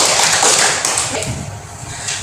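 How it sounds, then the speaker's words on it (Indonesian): Classmates in a classroom microteaching session applaud, a dense, loud wash of clapping hands that fades slightly toward the end. "kita kasih aplaus untuk teman-teman kita"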